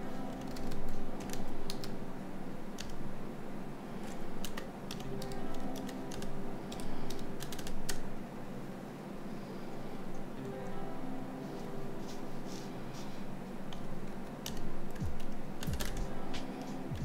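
Keys tapping on a Nokia Bluetooth keyboard while writing a message, steady light clicking spread across the whole stretch over a constant hum of background noise; no voices.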